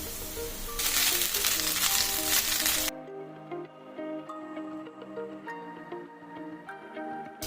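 Leftover cooked rice hisses in a pan with a fried tempering as chitranna is made: a loud sizzle lasting about two seconds stops abruptly, followed by quieter tonal background sounds.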